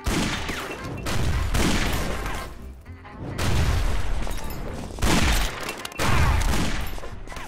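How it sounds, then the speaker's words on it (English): Grenade blasts and bursts of gunfire in a violent shooter video game, loud heavy booms arriving roughly every one and a half seconds, each trailing into rattling fire, with no talking. "quit throwing grenades at me"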